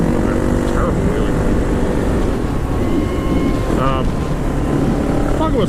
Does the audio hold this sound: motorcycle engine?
yes